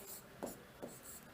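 Chalk or marker strokes on a board during a Hindi grammar lesson: faint, close scratching in short, evenly spaced strokes, without speech.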